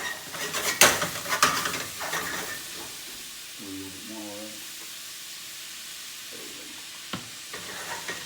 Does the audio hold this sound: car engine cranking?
no